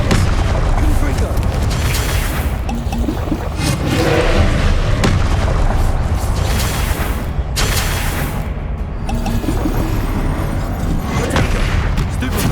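Confringo blasting spells exploding in Hogwarts Legacy, dense continuous booms and crackling blasts layered with game combat noise, loud and sustained throughout.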